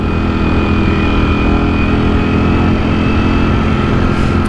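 Streetfighter motorcycle engine droning loud and steady while riding, a continuous close rumble with a thin whine on top and no pauses.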